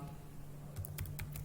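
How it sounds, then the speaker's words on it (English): Quick keystrokes on a computer keyboard typing into a search box, a short burst of close clicks over a steady low hum. "on this search pane, you type PowerPoint"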